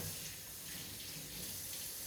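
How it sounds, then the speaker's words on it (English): A kitchen faucet runs steadily, a constant close hiss of flowing water filling the whole moment without change or pause, while preparing homemade pasta dough, no talking. "So I'm just running my water faucet for my water."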